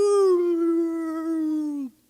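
A human voice imitates a dog howling, one sustained, clear howl that holds steady and then slides down and drops off abruptly near the end.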